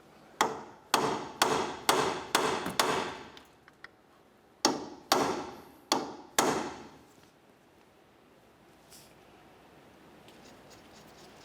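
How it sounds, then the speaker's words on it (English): A hammer striking a punch to drive a car's axle nut down into its locking slot during front sway bar link work on a 2004-2006 Scion xB: two sharp runs of five and four close metallic blows, then quiet. "you can take a hammer and punch and drive the nut down into that slot"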